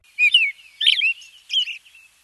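Bird calls in the Dinosaur Train video game's backyard habitat activity: three bright chirping phrases in quick succession, clear and close, with no talk over them.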